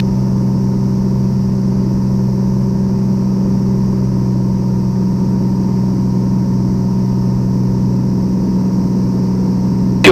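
Piper Comanche 250 engine throttled back to 2,500 RPM in flight, a loud, steady, even cabin drone with a constant propeller hum and no breaks.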